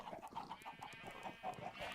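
Soft, rhythmic chicken clucking from bred Minecraft chickens near chicken feed, a steady series of faint repeated clucks with no talk over it.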